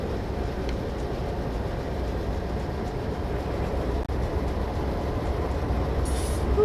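Train rolling along straight track in a railway simulator game, a steady continuous rumble of wheels and carriages with no talk, holding an even level throughout.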